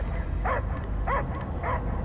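A dog in Marvel's Guardians of the Galaxy video game gives three short, evenly spaced barks over a low rumbling background.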